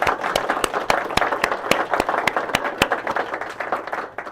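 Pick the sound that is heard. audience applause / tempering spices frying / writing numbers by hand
audience applause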